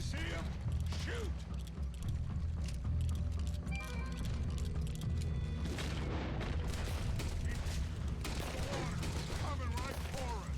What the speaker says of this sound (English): Put every bullet you got in him. Dead ahead of us. You see him? Shoot!